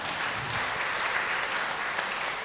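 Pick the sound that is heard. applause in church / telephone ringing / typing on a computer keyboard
applause in church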